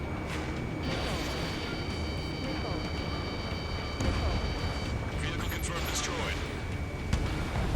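Missile launches and explosions in the Ace Combat 7 flight combat game: continuous roaring jet and weapon noise with heavy booms and crashes layered on top, while voices speak over the action.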